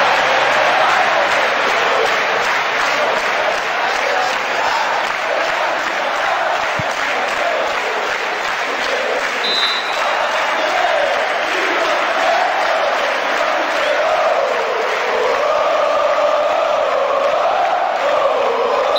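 Steady roar of a large football crowd filling Genoa's Luigi Ferraris Stadium during the 1990 World Cup match between Brazil and Egypt, a dense continuous wash of voices and applause with no break.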